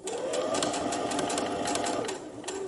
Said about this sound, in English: and finish sewing this side.